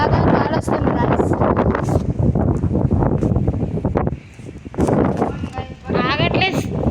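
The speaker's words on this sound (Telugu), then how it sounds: "ఆగట్లేదు గాయ్స్, అసలు గాలి ఆగట్లా. తుఫాన్." Strong stormy wind buffets the microphone in heavy, roaring gusts with a brief lull midway, while a person talks over it.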